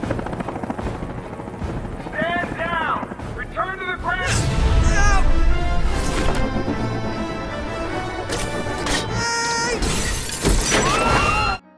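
Thick glass in a monument shatters during the helicopter rescue scene in Spider-Man: Homecoming, with a loud crash set among heavy rotor noise, booming effects and dramatic music, while people talk over it.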